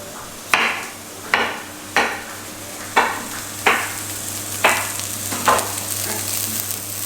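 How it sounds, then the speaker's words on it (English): Onions sauté in a pan under a steady low sizzle, punctuated by about eight sharp, evenly spaced stirring scrapes against the pan. "Onions are sauteing."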